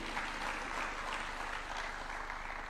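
Crowd clapping at a university launch ceremony in Nairobi, a continuous, fairly faint wash of applause with a steady low hum underneath and no voices.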